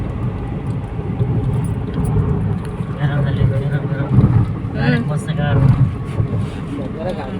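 Four-wheeler cars pull up at a roadside where women sell mangoes and karonda fruit, giving a steady close engine and tyre rumble with wind buffeting throughout.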